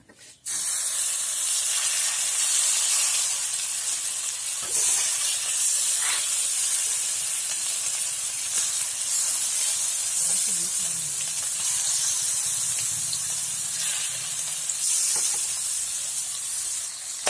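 Oil hisses steadily in a frying pan, a loud, broad, continuous sizzling spray that starts abruptly and holds throughout, with faint clinks and soft background sounds underneath.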